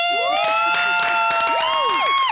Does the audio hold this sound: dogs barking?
no